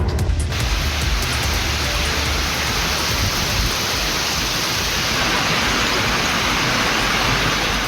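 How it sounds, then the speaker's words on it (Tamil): Heavy rain pouring steadily across southern Tamil Nadu districts, a dense continuous hiss of downpour on surfaces, loud and unbroken throughout with no voices. "தென் மாவட்டங்களில் பெரும்பாலான இடங்களில் 2வது நாளாக கனமழை பெய்தது."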